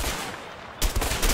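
M14 rifle gunfire in a shooter video game: a quiet stretch followed by a few sharp, loud shots in quick succession near the end, with no talking.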